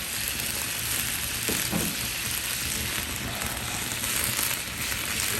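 Vegetables for chili fry in a hot pan with a loud, continuous sizzle, while a utensil stirs and scrapes through them.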